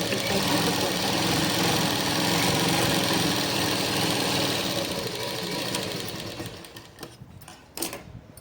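A sewing machine stitches a seam on a Punjabi dress with a fast, continuous mechanical whir that runs loudly for several seconds, then slows and stops into near quiet with a few faint clicks.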